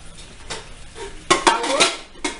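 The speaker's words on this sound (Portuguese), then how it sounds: "A louça é normal que cai" Dishes and cutlery fall and clatter in a home kitchen: scattered soft knocks, then a cluster of sharp, close clinks and bangs. No talking.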